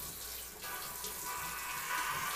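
Water poured from a container onto a freshly potted plant, a steady close splashing and trickling that runs unbroken and grows slightly louder toward the end, with no talking.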